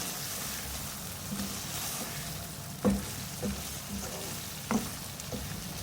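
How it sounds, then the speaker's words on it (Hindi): Chopped green chillies sizzle in a pan of brain (maghaz) masala, a steady soft frying hiss broken by a few distinct knocks and scrapes of the spoon stirring. "मिक्स करेंगे इसको।"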